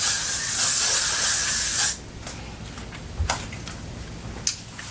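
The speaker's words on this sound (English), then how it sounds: "And I will just go in and spritz the hair like so." Hairspray is spritzed onto curly hair in one long, close hiss that lasts about two seconds and then stops, leaving quiet room sound with a few faint clicks and taps.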